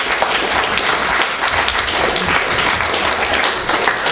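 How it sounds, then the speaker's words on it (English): A loud, close burst of applause and clapping from an audience at a student club's improv comedy night, continuous and dense throughout with a few faint voices mixed in. "A round of applause for everyone who."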